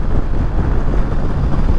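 Steady, rushing wind buffets the rider on a Suzuki GSX-S1000GT motorcycle, a dense low roar that holds constant and loud for the whole moment with no voices over it.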